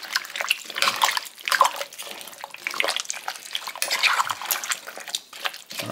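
Beef stock being poured into a stew pot for beef stew and dumplings, a steady liquid splash and trickle with a few clinks, close and moderately loud, no talk.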